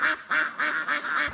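Five quick nasal quacks from farm ducks in an evenly spaced series, close and fairly loud, with no other sound around them.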